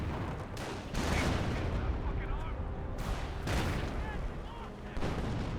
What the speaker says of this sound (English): nice mortar there wipes out the rifleman